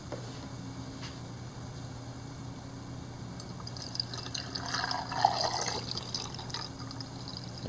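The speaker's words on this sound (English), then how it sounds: "now she's going to cover them with vinegar" Vinegar poured over eggs in a container, a faint liquid trickle and splash rising briefly in the middle over quiet room hum.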